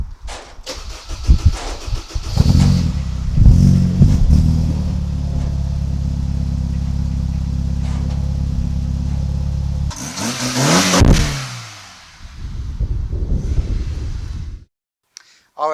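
A car engine cranks and catches, settles into a steady idle, then revs up sharply before dropping away, with brief voices in the background.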